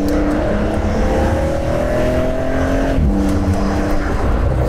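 A Porsche 911 Carrera S Cabriolet with a turbocharged engine accelerates hard in sport mode, its loud, continuous engine note climbing in pitch and then dropping at a gear shift before climbing again.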